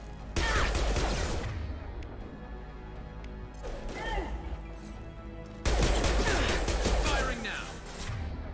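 Gunfire from Mass Effect 2 Legendary Edition on the Omega space station: loud, rapid bursts of weapon fire and clattering impacts in two heavy waves, with game voices calling out between them.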